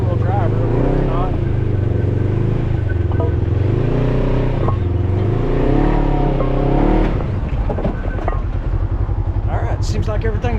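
Super ATV XP1000 revving as its wheels spin in two-wheel drive, a close, loud engine whine rising and falling in waves, with people talking over it.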